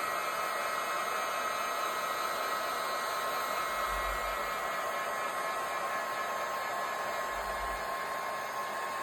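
A heat gun set to high heat and low airflow blows steadily over a resin clock, its broad hissing roar running unbroken and close for the whole stretch with no voices.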